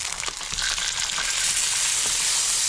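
Bass fillet sizzling skin-side down in a hot frying pan, a steady dense crackle and hiss with small spits throughout, close and fairly loud, no talk.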